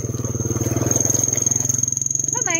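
A nearby motorcycle engine with a rapid, pulsing putter that holds steady at close range, a faint high whine over it and a voice briefly talking at the end.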